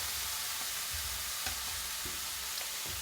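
Steady, loud sizzling of carne asada steak frying in a hot pan, a constant crackling hiss with small pops and faint clinks, no voices.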